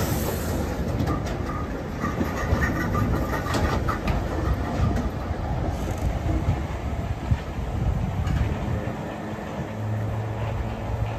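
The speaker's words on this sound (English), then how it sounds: "now here's the train back at Acton Town going into the reversing siding" A preserved 1938 Tube Stock London Underground train rumbles steadily into the reversing siding at Acton Town, wheels clattering on the rails with faint squeals and a continuous motor hum close by.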